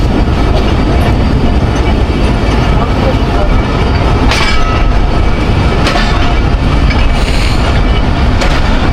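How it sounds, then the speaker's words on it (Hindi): A Pakistan Railways Thall Express, 130 Down, pulls out of a station with a steady loud rumble of wheels and carriages, faint squeals and clatter throughout, and voices now and then underneath. "डिपार्चर हो रहा है इंदिरा रेलवे स्टेशन से 130 डाउन हल एक्सप्रेस का"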